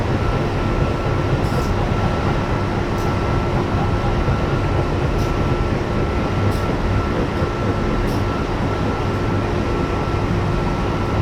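A Pennsylvania Railroad GG1 electric locomotive in a train game runs steadily with a loud, continuous rolling roar and hum, faint periodic clicks of wheels over rail joints above it.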